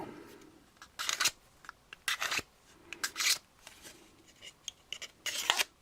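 A hobby knife scraping the mold seam line off a plastic miniature, a series of short rasping zips in irregular bursts, close and crisp against a quiet background.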